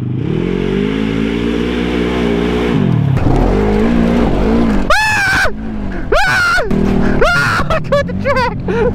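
A Polaris ACE side-by-side tears around a flat dirt track, its engine droning steadily before breaking into several loud, sharp revs that climb and drop in quick succession.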